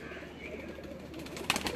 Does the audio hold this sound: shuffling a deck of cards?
no